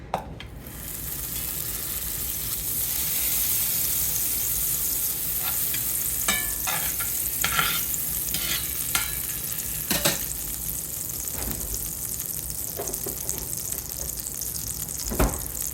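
An egg frying in an antique cast iron pan rescued from a junkyard, producing a constant hiss and sizzle with scattered louder pops and crackles, close up and without speech.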